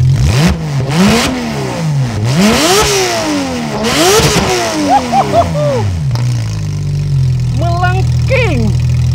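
A Porsche 911 GT3 RS in sport and track mode revs hard in repeated rising and falling sweeps, loud and close, then settles to a steady idle broken by a few sharp high blips.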